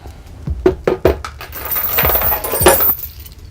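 Metal chain and shackle from an aqua punching bag kit jangle and clink as they are handled, a few sharp metallic rattles followed by a longer stretch of jingling, close by and fairly loud.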